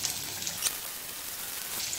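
Egg rolls coated in flour fry in hot oil, giving a steady close sizzle with a faint bright crackle throughout and a brief stir or flip partway, with no voices.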